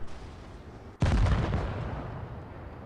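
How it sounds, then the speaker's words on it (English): A single heavy cannon shot from the FV217 Badger, a British Tier X tank destroyer, firing an APCR round in World of Tanks Blitz: one loud sharp blast with a long rumbling decay, no voice. "I'm shooting APCR right now"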